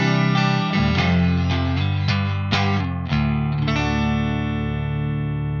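A clean electric guitar played through a DemonFX pedal into an amp modeller on a Fender Twin preset, ringing sustained chords and single notes that decay evenly, loud and close with no one talking.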